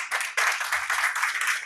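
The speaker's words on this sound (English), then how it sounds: "big applause for Marcus" Audience applause at a sommelier championship, brisk dense clapping close by in uneven bursts throughout.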